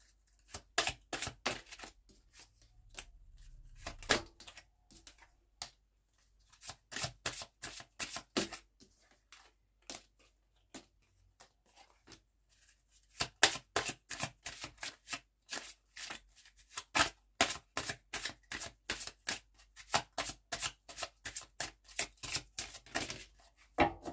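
Tarot cards are shuffled in repeated bursts of rapid, crisp riffling and flicking, near and fairly quiet, separated by short pauses, with no talking.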